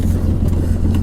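A 2012 Polaris RZR 800 S side-by-side with Fox suspension drives along, its mid-pitched engine droning close and steady for about a second with no talk.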